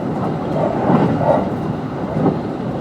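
Interior running noise of a Kintetsu 22600 series train with Mitsubishi IGBT-VVVF drive, between Yamato-Yagi and Yamato-Saidaiji: a steady loud rumble of wheels on track with rising and falling motor tones, heard from inside the car.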